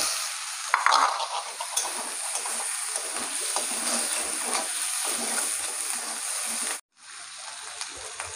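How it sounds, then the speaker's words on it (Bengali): Chopped tomato is added to onion and garlic frying in a pan for a potato and soybean curry. Continuous sizzling carries light stirring scrapes, with a short drop in sound near the end. "এবার এই কেটে রাখা টমেটোটা দিয়ে দেবো।"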